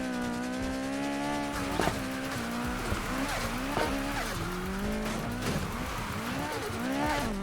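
McLaren 570S Spyder drifting in Need For Speed Heat, its engine droning steadily with rising and falling revs while tires squeal in bursts through the slides, loud and close, with brief thumps along the way.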